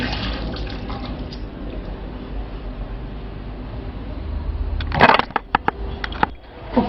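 Tap water runs steadily into a kitchen sink during rinsing after cleaning the tiles, marble counter and faucet, a continuous splashing flow that swells into louder bursts and drips near the end.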